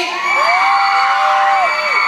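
A loud audience at a Thai film press screening screams and cheers continuously, with high-pitched shrieks rising and falling over a dense roar.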